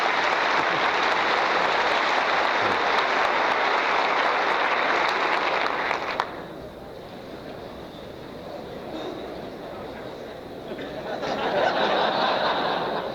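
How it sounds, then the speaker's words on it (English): Audience applause welcoming General Robert H. Barrow, Commandant of the Marine Corps, before his speech at the US Army Command and Staff College: loud sustained clapping that drops off after about six seconds, then a smaller swell near the end. "I'm totally undeserving of that applause, but I do appreciate it"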